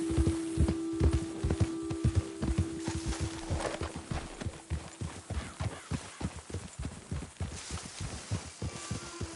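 Horse hooves clip-clop in a steady trotting rhythm while riding in Red Dead Redemption 2, close and continuous over a low tonal hum from the game, with no talking.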